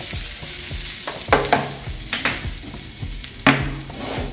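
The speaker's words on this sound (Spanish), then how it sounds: "Caramelizamos un poco los ingredientes, salteamos, nos agregamos con un cucharín de palo" Onion and garlic sauté in a hot pan while a wooden spoon stirs them, giving a steady loud sizzle broken by several scraping strokes and clacks of the spoon.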